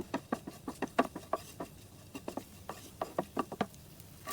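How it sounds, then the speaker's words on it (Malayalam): Eight to ten cashew nuts fry in hot ghee in a pan, giving a run of sharp, crackly pops and spits in irregular bursts, close and fairly quiet, with no talk. "ചൂടായ നെയ്യിലോട്ട് നമുക്ക് എട്ട് പത്ത് കാഷ്യൂനട്ട്സ് ചേർത്ത് ഫ്രൈ ചെയ്തെടുക്കാം"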